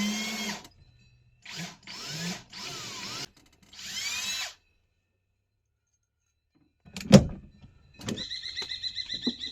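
A handheld power drill bores a hole in an old camper, running in four short whirring bursts that rise and fall in pitch, followed after a pause by a sharp knock and a faint higher whine.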